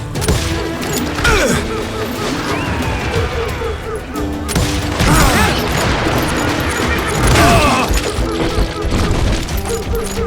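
Loud, continuous gunfire from a Wild West shootout in the video game Call of Juarez: Gunslinger, with repeated shots, booms and clatter mixed with game music and shouting voices.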